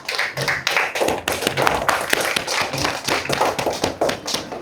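A classroom of students claps for a group after its presentation. The applause is a dense, fast run of many hand claps at a steady, lively beat, close and loud throughout.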